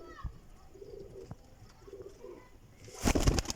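Pigeons kept for flying give soft, low coos in a few short phrases, close and quiet, followed by a louder burst of flapping wings near the end.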